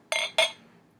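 Yuengling Black & Tan Porter poured from a bottle into a glass: two short bursts of splashing liquid, one right after the other, close and fairly loud, then a fading fizz.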